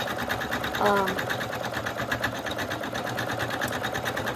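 An embroidery machine stitches a satin stitch border on a patch, running with a steady fast mechanical chatter that stays even and close throughout, with a brief whine near the start.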